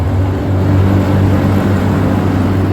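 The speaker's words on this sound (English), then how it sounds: "listening to the sound of this engine, that sonorous Alfa Romeo sound" A 1979 Alfa Romeo Alfetta 2.0 engine idles with a deep, steady rumble, close and continuous, with no voices.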